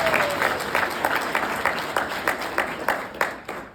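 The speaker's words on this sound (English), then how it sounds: "Round of applause for" Audience applause at a youth summit event in Arizona, a steady wash of many hands clapping with slight crowd noise, fairly loud and close.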